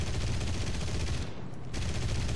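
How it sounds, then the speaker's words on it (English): A side gunner on a World War II aircraft in the War Thunder video game fires a machine gun in rapid, continuous bursts. The fire is loud and close, with one brief pause before it resumes. "A side gunner's shooting some."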